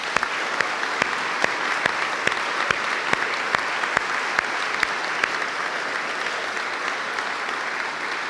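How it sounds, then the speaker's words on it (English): An audience at a school awards evening gives a sustained round of applause for award-winning students, with dense, even clapping that carries on loud and unbroken. "So we can give one big final round of applause to all of the students that have won."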